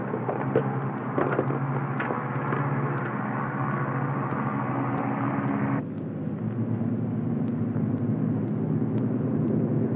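A Lockheed P-38 Lightning fighter flies on a single engine, giving a steady, loud propeller-engine drone for the whole stretch. Its tone shifts and drops partway through, with no voices.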